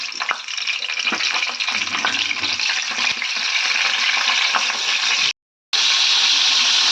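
Brinjal pieces frying in oil in a pan for a traditional Tamil ennai kathirikai, giving a loud, steady hissing sizzle close up, briefly cut off near the end before resuming; no talking.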